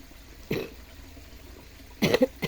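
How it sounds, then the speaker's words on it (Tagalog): A single cough, then a short burst of several rapid coughs a moment later, close by against a quiet background. "Ayan, yung ubo ko na sinasabi ko sa inyo."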